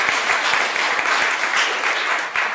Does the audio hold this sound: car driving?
no